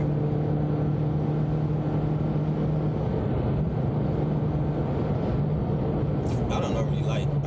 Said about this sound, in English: Let's see how loud this baby get in fourth gear.